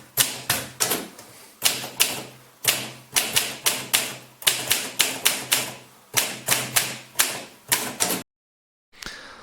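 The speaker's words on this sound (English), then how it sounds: "I converted this beautiful old typewriter into a functioning keyboard" An old electromechanical typewriter clacks through rapid bursts of keystrokes, close and sharp, with short pauses between runs and a brief silence near the end.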